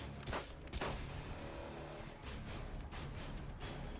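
RSh-12 revolver mod in Fallout 4 firing three heavy gunshots, sharp booming reports spaced out over a few seconds against steady game ambience, with no talking.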